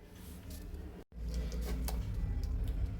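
A sewing machine stitches a blouse with a steady, close mechanical whir that cuts out for a brief instant before running on evenly.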